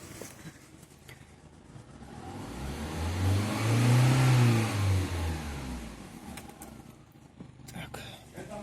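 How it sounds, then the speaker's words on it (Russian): A Lada Granta with the 11182 engine, which has misfires, is revved once: the engine climbs smoothly to a loud peak and falls back to idle, with faint talk nearby. "Я буду газовать, не надо пугаться, так по методике положено."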